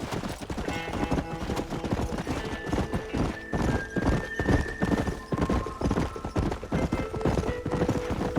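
Horse hooves clip-clopping at a gallop with repeated whinnies and neighs in the Red Dead Redemption video game, steady and close, set against game music and ambience.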